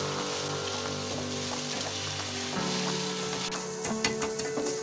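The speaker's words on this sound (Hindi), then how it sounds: "ये देखिए जी, अंडे फ्राई हो रहे हैं।" Eggs fry in a pan with a faint, steady crackling sizzle, and light stirring clinks sound now and then over a low background hum.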